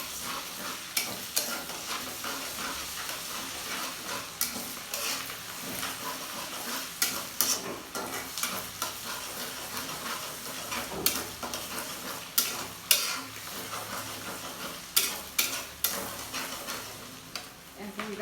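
Garlic and ginger paste sizzles in a pan for chilli chicken, with a spatula scraping and tapping against the metal in irregular clinks over a low, steady frying hiss.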